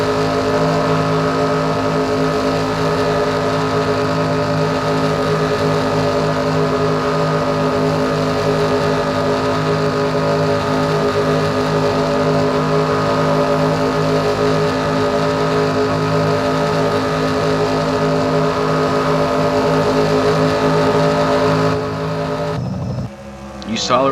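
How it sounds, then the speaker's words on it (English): Stock car engine held at full throttle onboard around a super speedway in NASCAR Racing 2003, a steady, loud, droning whine sustained throughout before cutting off abruptly at the end. "You can hear full throttle around this super speedway."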